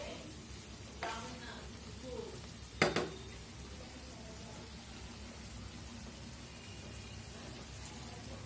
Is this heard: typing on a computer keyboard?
no